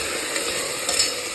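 Ingredients fry in a pan while being stirred, a dense, loud sizzle with scraping clicks and a couple of brief louder stirring bursts near the end.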